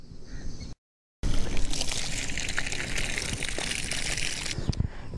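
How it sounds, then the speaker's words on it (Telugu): Liquid jeevamrutham poured into a dug pit on a farm plot, a steady continuous gushing splash that runs for several seconds after a brief pause, loud and close with no talk. "ఇందులో ద్రవ జీవామృతాన్ని పోయాలి"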